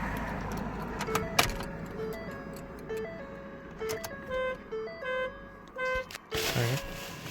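A Ford F-150 gives off a repeated electronic beeping in an uneven pattern of short tones, close by, with some clunks and a person talking underneath.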